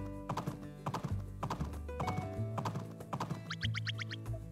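In the video game Doraemon Story of Seasons, rapid rhythmic hoofbeats of a galloping horse, close and steady, with a brief flurry of higher clicks near the end.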